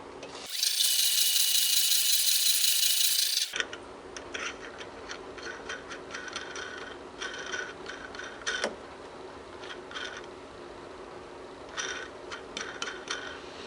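Light ticking and clicking of a Logan 210 metal lathe taking a final pass on a 2 mm metric thread, faint and irregular, with a loud hissing burst at the start.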